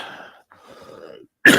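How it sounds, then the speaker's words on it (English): Faint background murmur gives way to a single sudden, loud, harsh cough right up close at the end, rough and unhealthy sounding, at a scale-model workbench. "that was an unhealthy sounding cough"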